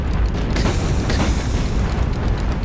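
In the naval video game Battlestations Pacific, a warship fires torpedoes during the Second Battle of Guadalcanal, a dense, loud, continuous booming rumble of launches and explosions with no talking.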